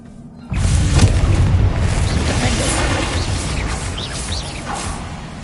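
A Bombarda explosion spell goes off inside a mine in Hogwarts Legacy. It starts with a sudden loud boom, then a dense rumble that slowly fades while faint chirps sound in the background.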